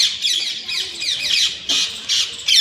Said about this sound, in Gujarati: અને પોપટ એટલા બધા છે